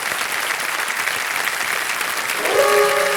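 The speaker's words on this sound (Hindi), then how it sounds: "एक बार फिर जोरदार तालियां बज जाएं इनके लिए।" Loud, steady applause from a studio audience on a televised quiz show fills the whole stretch, with a brief tonal accent near the end.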